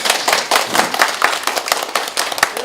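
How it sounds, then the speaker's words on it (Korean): A small group claps loudly and unevenly during a heritage tour marking the Bocheongyo independence movement centenary, individual sharp claps clearly separable in a close, lively burst. "지수님한테 박수 한번"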